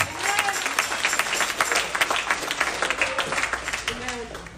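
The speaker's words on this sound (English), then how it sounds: "somebody clap your hands onto that" A church congregation claps hands in uneven bursts, loud and close, with voices calling out over the clapping throughout.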